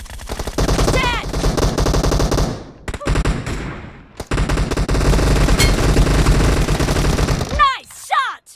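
Rapid automatic gunfire in a first-person shooter video game, loud bursts of machine-gun fire with a short pause midway and whizzing, whistling effects near the end.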